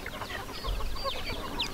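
Native hens, about forty upgraded birds kept together, cluck softly in short scattered calls over a low background murmur, fairly faint and close.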